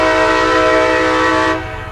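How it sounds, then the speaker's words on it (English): CSX intermodal freight train with containers and trailers on flatcars sounds a loud, sustained multi-tone horn that cuts off near the end, leaving low rumbling rail noise. "In CSX nomenclature, this is an intermodal train, containers and trailers on flat cars."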